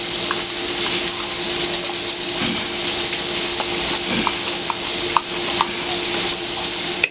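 A 6-ounce can of tomato paste is scraped and stirred into a pot of tomato sauce, giving a soft, continuous wet stirring hiss with small scattered clicks of a utensil against the can and pot.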